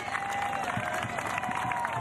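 Spectators packed along the Champs-Élysées clap and cheer steadily for a runner in the Paralympic marathon, a dense continuous roar of applause with a faint whistle-like tone running through it.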